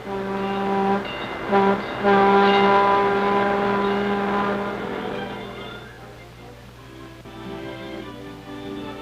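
A train horn sounds with long, loud sustained blasts as the train pulls into Gallup, New Mexico, in 1945, then fades into a softer rumble.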